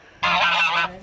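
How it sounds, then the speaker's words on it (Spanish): A single loud, close honk from a farm duck or goose lasts just over half a second against quiet surroundings. "Vemos los patos."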